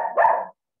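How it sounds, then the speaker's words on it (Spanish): A pet dog barks loudly and close, one or two sharp yelps in quick succession, cutting into an online class session in a home. "es mi perro que mete mucha bulla"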